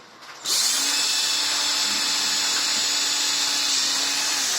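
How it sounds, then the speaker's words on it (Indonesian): After a brief quiet moment, a power drill whirs to life and keeps spinning at a steady high pitch, loud and close until the end. "Ini akan kita bor bagian seperti ini."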